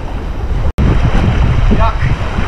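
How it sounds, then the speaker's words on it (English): Rough, violent sea water churns and crashes off the Maldives, a steady loud wash of surf and wind buffeting the microphone, with a brief cutout early on. "The water is too violent."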